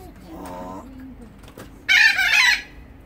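Loud squawking and clucking of chickens at feeding time in a zoo bursts out in a short flurry, preceded by a softer call and low background noise.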